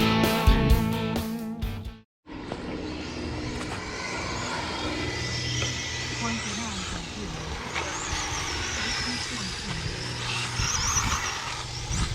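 A Traxxas Slash 4x4 radio-controlled car runs on a buggy track, its electric motor whining and buzzing at a moderate distance for several seconds, with a voice speaking at the start.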